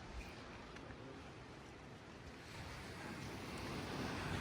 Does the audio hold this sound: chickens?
no